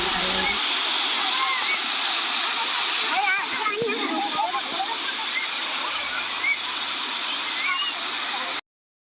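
Davis Falls waterfall in Pokhara, Nepal, a steady, dense rush of falling water that fills the scene at close range without pause, with voices faint underneath, then cuts off abruptly near the end.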